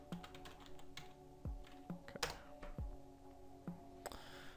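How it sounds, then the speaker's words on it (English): Search keywords being typed on a computer keyboard, a close, irregular run of sharp key clicks with a few heavier thumps and brief pauses, no talking. "Let's start by typing celeb skin care secrets."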